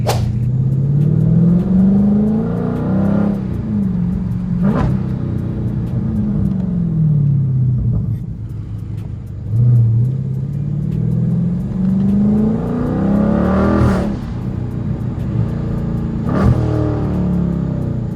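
Dodge Charger Scat Pack engine, heard from inside during a drive, loud and close, with deep rumbling revs that rise and fall through several gear-change cycles, accelerating hard with no talk over it.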